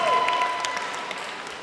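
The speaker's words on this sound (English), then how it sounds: "Can we get some claps?" Wedding guests applaud the couple in a short, moderately distant burst of clapping that starts at full strength and slowly thins out.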